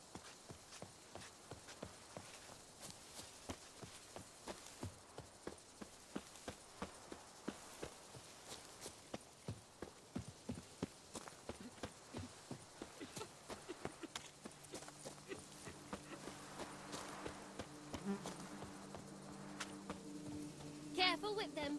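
A horse gallops in The Witcher 3, hooves clip-clopping in a quick steady rhythm for most of the stretch, fairly close, with game voices and ambience joining toward the end.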